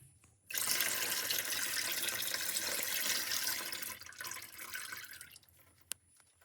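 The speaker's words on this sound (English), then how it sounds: "I'm going to wait for all the oil to drain out from the oil pan" Transmission oil from a BMW 520d G30's ZF 8HP gearbox draining out of the oil pan, a steady splashing pour that runs for several seconds, then thins out and trails off near the end.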